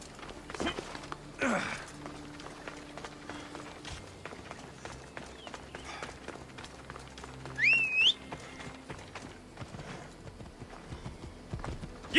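Horse hooves galloping in the video game Assassin's Creed Odyssey give a quiet, rhythmic clip-clop that runs under game ambience, with a brief whistle partway through.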